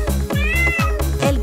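Animated kitten meowing in a Spanish-language children's song about a fluffy kitten, several quick repeated meows over a steady musical beat, loud and up front.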